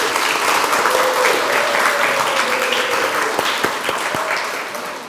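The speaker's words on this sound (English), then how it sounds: "Let's give ourselves another round of applause." Applause fills a school assembly hall during a live National Numeracy Day broadcast, a thick sustained wash of clapping with a few sharper individual claps, loud and close, tapering off at the end.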